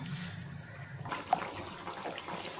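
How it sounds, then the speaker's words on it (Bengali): Tilapia fish curry simmers in a pot on a gas stove, a soft, watery bubbling that is faint and steady over a few seconds. "এটা ফুটতে শুরু করেছে, আর একটু ফুটবে"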